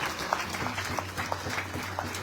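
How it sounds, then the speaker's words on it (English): Applause at an outdoor Ramayan in the Park gathering for a Hindu Dharmacharya, scattered claps ringing out at a moderate distance over a low hum and background murmur. "Give him a big round of applause"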